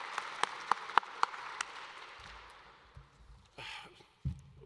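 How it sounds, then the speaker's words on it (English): Audience applause for sponsors at a state awards ceremony, a few sharp claps at first that fade into a thin, dwindling patter before scattered room noise. "let's give all of these sponsors a big round of applause"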